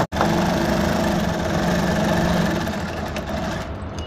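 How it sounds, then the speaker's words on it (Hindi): Sewing machine stitching around a pocket on palazzo pants, a continuous close motor hum with fast steady needle chatter after a brief start, no speech. "अब इसमें पहले तो ये इस पॉकेट के यहाँ पे सिलाई लगा लेंगे चारों तरफ राउंड में इसके"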